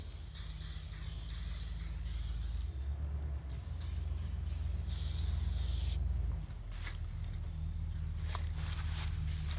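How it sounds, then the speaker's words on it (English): A steady, close hiss of an aerosol spray can, continuing with brief pauses between passes. "we're just putting down a light coat because I don't expect an even spray out of this"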